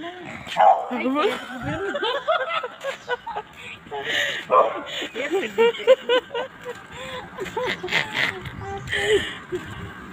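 A dog barks and yips in a parking lot, with several short yaps and whimpers mixed under close talk and chuckling.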